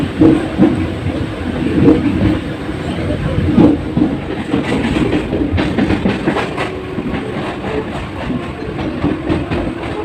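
A local train pulls away from Durganagar station, heard from inside as a loud, continuous rattling clickety-clack over the tracks with a low rumble beneath.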